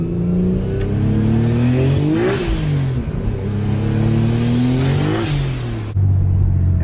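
A 2001 Nissan Skyline GT-T engine revs loudly and continuously from inside the car, its pitch climbing and dipping through several throttle swells before one sharp change near the end.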